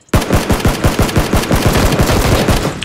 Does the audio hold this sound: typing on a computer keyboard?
no